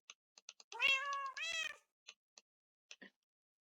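A cat meows in the video game Minecraft, two drawn-out tonal meows close together near the start, surrounded by sparse clicks and ticks of game input.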